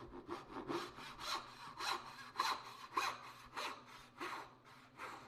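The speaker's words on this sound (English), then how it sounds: "You save yourself a ton of work if you saw right to the line instead of stopping short." A hand saw cutting wood down to a marked line, heard as about ten close, even back-and-forth rasping strokes in a steady rhythm, fairly quiet, with no talking.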